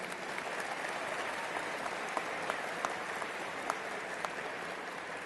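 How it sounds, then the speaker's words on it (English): A crowd gives a sustained round of applause at a 2014 college graduation ceremony, an even, continuous patter of many hands heard from a distance, with a few sharper individual claps standing out and no speech. "Let's give them a round of applause."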